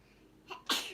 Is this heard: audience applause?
no